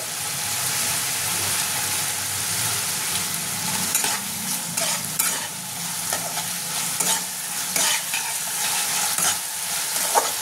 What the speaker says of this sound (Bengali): দিয়ে দেবো একটু গ্রিন চিলি সস। সসের টেস্টটা ভালো আসবে।